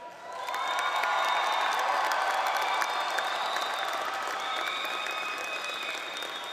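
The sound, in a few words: graduation ceremony crowd applauding families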